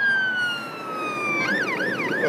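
An ambulance siren on blue lights wails near and loud, holding a steady tone before breaking into a fast rising-and-falling warble as the vehicle approaches.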